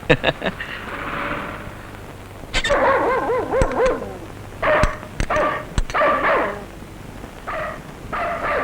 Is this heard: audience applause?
no